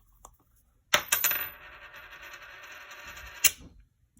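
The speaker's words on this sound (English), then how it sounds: "Final card or final method, coin flip." A flipped coin lands on a hard surface with a sharp clink, then rattles and rings as it spins down for about two seconds before a final clack settles it.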